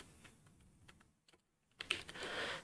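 Soft clicking keystrokes on a computer keyboard during an Arch Linux setup, a few scattered taps, then a short pause and a quick burst of faster typing, close and quiet.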